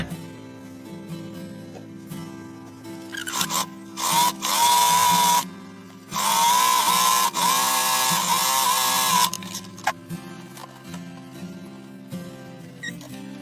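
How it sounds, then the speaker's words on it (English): A sewing machine stitches a seam on a burlap coffee sack tote bag, running in two loud whirring bursts with quieter motor hum between them. "you're just going to sew straight, you're going to attach these, and then leave the ends open, not attached, but sew along that seam"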